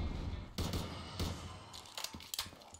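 Bursts of APS underwater rifle fire in a Simpsons-themed zombie video game, with several sharp shots and quick rattling volleys at a modest level and no talk.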